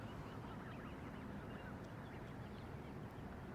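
Geese with goslings honk faintly outdoors in a low, steady wash of broadband noise, without any clear close calls standing out.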